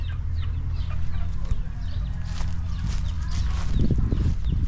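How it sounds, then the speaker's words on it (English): Several chickens cluck in a small backyard pen on a Miami, Florida fruit farm, their calls steady and close over a low outdoor rumble that grows louder near the end. "Small chicken pen. Fowl coop."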